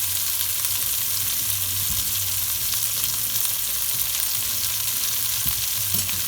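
Cremini mushrooms and potato pieces sizzling in a hot pan for mushroom soup, a dense continuous crackling hiss with occasional stirring clatter, close and steady.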